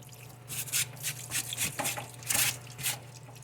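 Solvent and compressed air blasting through the passages of a 4L60 transmission make a close run of short hissing spray bursts, some longer and louder than others, over a low steady hum.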